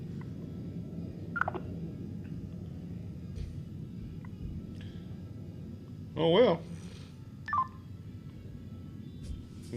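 Touch-tone dialing beeps from a phone placing a Facebook call: a short, fairly loud cluster of tones rises over a steady low hum, with a few fainter blips around it and a brief spoken remark.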